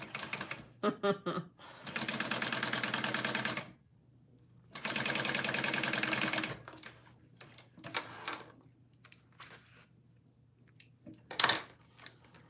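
Sewing machine stitching a small fabric mini pouch in several bursts, two long runs of steady rapid stitching separated by quiet pauses, plus shorter starts and a brief sharp burst near the end, with a low hum underneath.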